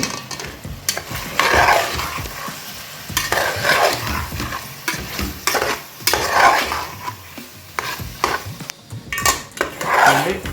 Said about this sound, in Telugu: ఇవి కాస్త ఫ్రై అవనిద్దాము